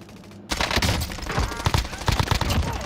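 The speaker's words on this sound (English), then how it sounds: "I just got shot at." Gunfire in Call of Duty: Modern Warfare near a police station, a sudden loud burst of rapid shots followed by continuing crackling fire and thuds, with voices talking over it.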